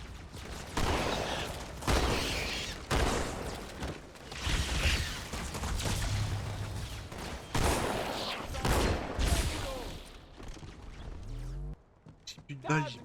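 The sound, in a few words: gunfire in the video game Halo 2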